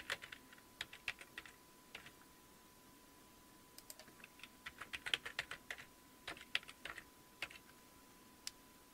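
A password is typed on a computer keyboard during a Linux setup, with quiet, close keystrokes coming in uneven bursts and short pauses and no one speaking.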